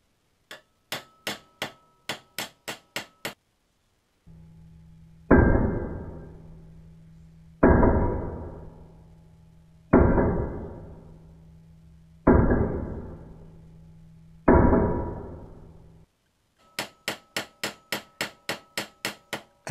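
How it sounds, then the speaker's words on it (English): A hammer peens a metal end into a mushroom shape: quick bursts of light ringing taps open and close the sequence, and five heavy, evenly spaced blows with sharp metallic ring fall between them, close and loud. "And I peen it around, and makes a decent mushroom."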